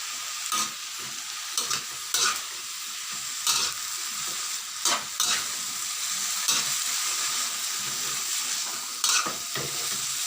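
Hung Lay curry ingredients, with a splash of water, sizzle and hiss in a pan as they are stir-fried, with steady frying noise broken by repeated loud scraping strokes of the spatula, close and without talk.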